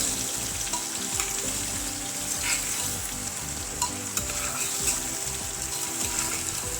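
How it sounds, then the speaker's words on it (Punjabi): Grated carrots fry and sizzle in ghee for gajar halwa, a steady close crackling hiss with occasional stirring scrapes, no talking over it. "ਤੇ ਗਾਜਰਾਂ ਨੂੰ ਆਪਾਂ 4-5 ਮਿੰਟ ਵਾਸਤੇ ਇਸ ਤਰ੍ਹਾਂ ਹੀ ਪਕਾਵਾਂਗੇ ਘਿਓ ਦੇ ਵਿੱਚ"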